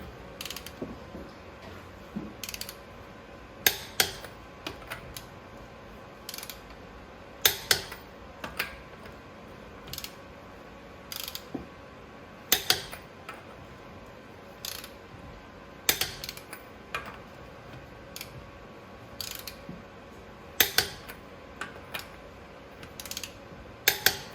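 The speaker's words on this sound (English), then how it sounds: "take your 19 millimeter, set it to 100 foot-pounds, and torque everything." A torque wrench works over the wheel lug nuts of a 2014 Ford Explorer Sport, giving scattered sharp ratcheting clicks and creaks at irregular intervals against a quiet background.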